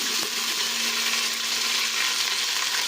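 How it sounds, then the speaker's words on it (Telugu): Ginger garlic paste frying in a pan for biryani, a steady, close, continuous sizzle throughout with no talking. "ఇది కొద్దిగా వేగిన తర్వాత పేస్ట్ కొంచెం పచ్చివాసన పోయే వరకు వేయించుకోవాలి అల్లం వెల్లుల్లి పేస్ట్ని"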